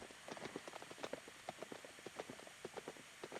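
Horse hooves clip-clop quickly past during a show-jumping riding lesson, a rapid, fairly faint rhythmic patter of hoofbeats on the arena footing lasting a few seconds.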